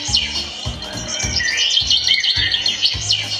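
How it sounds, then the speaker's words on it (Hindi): Little birds chirp in quick, bright bursts at a school annual function stage performance, heard over a steady, pulsing low beat, close and fairly loud, with no speech. "ये नन्ही मुन्नी चिड़ियाएं कितनी चहचहा रही है।"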